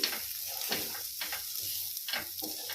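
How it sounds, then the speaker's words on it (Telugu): Oats being stirred into vegetables sizzling in a pan, a steady frying hiss with repeated scraping strokes of the spoon at a moderate, close level. "ఈ ఓట్స్ కూడా వీటిలో వేసుకొని మంచిగా కలుపుకోవాలి."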